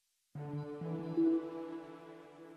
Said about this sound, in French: C'est un son d'Apergios aussi, la voix AR cristalline.